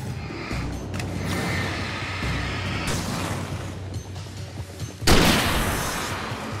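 A hunting rifle fires in the Alan Wake video game: one sharp, loud report cuts through busy, rumbling game ambience with scattered thuds and mechanical clatter before it.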